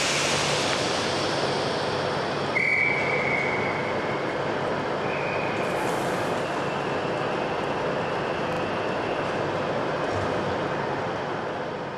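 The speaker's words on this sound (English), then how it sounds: "Services today are hauled by several Class 43 diesel high-speed trains" A Class 43 diesel high-speed train passing: a steady, loud broadband rumble of wheels and engine with a brief high squealing tone near the start, holding level throughout.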